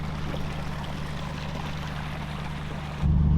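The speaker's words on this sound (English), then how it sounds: "We got all this water flowing down right through it." Water streams steadily down through deep, muddy tire ruts on an off-road track, a continuous close rushing trickle that swells louder in the last moment.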